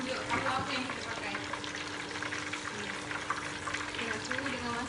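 Tofu sizzles in hot oil in a pan, a steady, fairly loud crackling hiss with light stirring and a faint watery sound, no talk in it.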